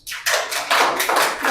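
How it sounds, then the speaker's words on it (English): A beginners' spoken English class claps for a student. Several short bursts of group hand-clapping arrive in quick succession, close and fairly loud, each surge swelling then fading, with no talk over them. "Please everyone clap for Fatima"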